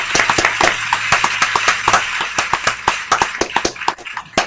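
A small open mic audience clapping after a blues song, a sparse, uneven patter of claps from a few people, close and moderately loud, without cheering or talk.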